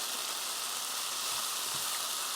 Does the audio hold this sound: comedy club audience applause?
no